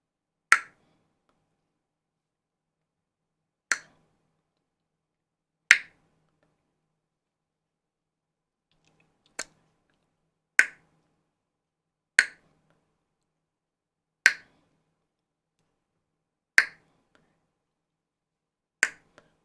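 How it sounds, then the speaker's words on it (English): Sharp finger clicks made by pressing hard and releasing come one at a time at irregular intervals of a few seconds, about nine in all, crisp and close against near silence. "And then release it with a click. There's a click sound comes."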